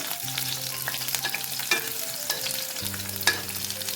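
Garlic frying in about three spoons of hot oil for an Andhra gongura chutney, a close, continuous crackling sizzle with light stirring clicks and a low steady hum underneath.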